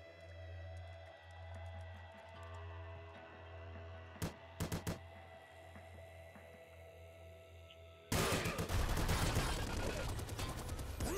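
Rapid microgun gunfire from the video game Nuclear Throne, a dense continuous rattling burst that suddenly starts late and keeps firing loudly over an electronic hum, after a few brief sharp shots earlier.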